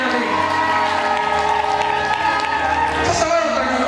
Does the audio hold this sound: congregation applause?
yes